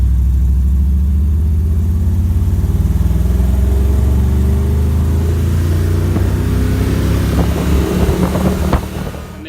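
A Ford Galaxie V8, smaller than the optional 390, roars close up at full throttle through a 0-60 run, its deep engine drone climbing steadily in pitch under heavy wind buffeting, then easing off at the end.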